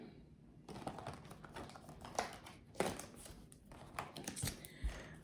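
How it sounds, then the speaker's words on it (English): Tarot cards being shuffled by hand, giving soft, close riffling and flicking bursts with scattered quiet taps and rustles at low volume. "All right, we're just going to shuffle without that one."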